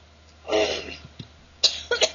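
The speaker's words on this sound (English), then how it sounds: "no coughing. No choking either." Coughing from someone who just choked on a bite of food: a harsh cough burst, then a short pair of sharp coughs a second later, close and fairly loud.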